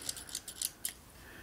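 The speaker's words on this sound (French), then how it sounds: "J'aime ça, ces ciseaux-là. Je trouve ça super pratique." Small cross-stitch scissors handled up close, giving a quick run of light, bright metallic snips and clicks with short pauses between, quiet and alone.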